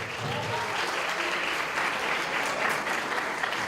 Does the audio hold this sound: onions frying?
no